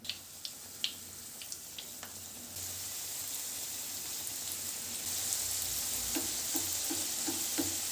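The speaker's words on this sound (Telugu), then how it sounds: "ఇప్పుడు నూనె కాగింది ఇలా ఒక్కొక్కటి వేసుకుందాం" Pieces of wheat flour snack dough half deep frying in hot oil, a steady close sizzle that thickens and grows louder as more pieces go in, with a few faint clicks and taps.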